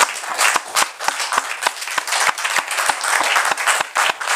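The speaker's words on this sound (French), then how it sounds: "applaudis, applaudis la Alléluia" A church congregation claps in rhythm at a worship service, sharp regular hand claps close and loud, steady for about four seconds with no talk over them.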